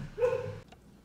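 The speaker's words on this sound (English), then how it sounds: "sorry for the barking there" Old dog indoors letting out a single drawn-out bark, close and moderately loud, followed by quiet room tone.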